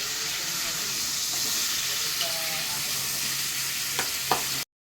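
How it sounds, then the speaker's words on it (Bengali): Potatoes fry in a pan with a bright, steady sizzle and hiss, heard up close, broken by a couple of brief stirring clicks near the end before the sound cuts off abruptly. "এখন আলু ফ্রাই করছি, একটু পরে চিকেন করবো"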